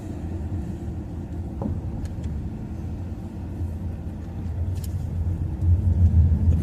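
A car driving a winding mountain switchback road on Iron Mountain, with steady low road rumble and engine drone throughout, growing slightly louder near the end, no talk.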